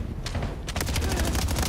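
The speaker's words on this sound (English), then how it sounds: "So far, it's a lot of gunfire." Dense automatic gunfire from a Call of Duty League match, with bursts building from scattered shots into a continuous fusillade, loud and close, under faint background game noise.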